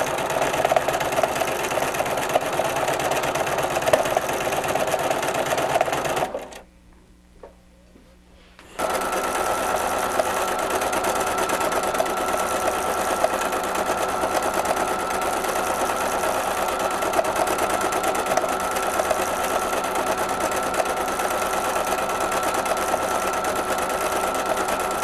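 A sewing machine stitches a shape in multicolor Star Thread, a steady loud mechanical whir running continuously, cutting out briefly for a few seconds of near silence before resuming at the same even pace.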